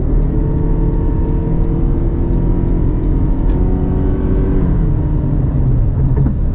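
A Toyota Crown Sedan Z hybrid accelerates, its engine revving up and down in a rhythmic way, with a loud and steady drone heard from inside the car and no talking.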